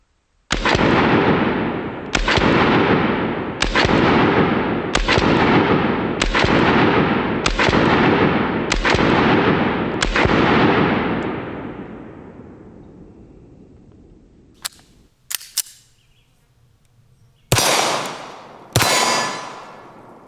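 Eight evenly spaced, very loud shots from an LFA Apollo 11 2011 pistol fired at small targets, each followed by a long ringing decay. After a pause come a few sharper metallic clangs and two more loud reports.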